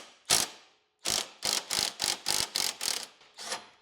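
A hand ratchet spins a 19 mm nut loose counterclockwise, one sharp click burst and then a quick run of seven rapid ratcheting clicks, close and distinct with no speech.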